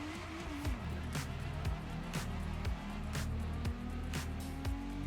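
Street cars and hypercars racing in The Crew Motorfest, engines droning with repeated gear-shift pitch drops and rising revs, a loud continuous mix of several cars close together.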